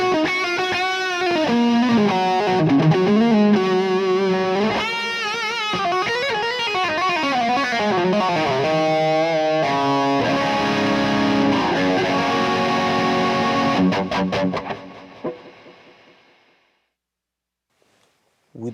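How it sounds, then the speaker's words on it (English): Electric guitar run through an xTONE with a Marshall Plexi amp profile plays a continuous distorted passage of chords and bends, loud and up close, before trailing off into silence near the end. "The second one is the one that I've done profiling my Marshall Plexi."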